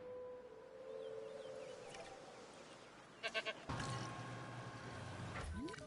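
Goats bleat in Jurassic World Evolution 2, with several faint, short calls amid game ambience, then a louder tonal game sound near the end. No one speaks.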